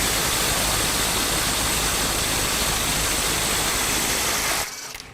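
A RIDGID mid-torque impact wrench set to 350 foot-pounds hammers loud and continuous at close range for about four and a half seconds, then cuts off abruptly.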